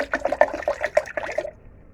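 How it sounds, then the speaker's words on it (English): Water splashes and gurgles as it is poured into a jug to rinse it out while making Jamaican ginger juice, close up and sloshing in uneven bursts for about a second and a half before going quiet. "So I'm just going to pour some water in there to rinse out."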